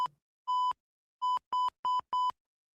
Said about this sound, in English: Was that the chirp? The fire alarm?